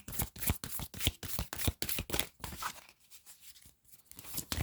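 Tarot cards shuffled by hand in a steady run of crisp riffling flicks for most of the stretch, thinning out briefly before a few more card slaps and slides at the end; no talking.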